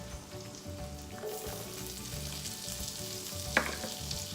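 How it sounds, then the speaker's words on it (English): Onions frying in oil in a pot for chicken tikka masala, a steady broadband sizzle with light crackling throughout and a brief sharper pop near the end, no talking. "I'm gonna add a lot of onions in here. Gonna let that simmer."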